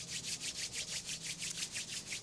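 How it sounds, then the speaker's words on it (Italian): Palms of the hands rub together in a quiet, steady rhythm of about a dozen soft swishing strokes, close and faint, with no talk. "tenendo gli occhi chiusi, strofina i palmi delle mani"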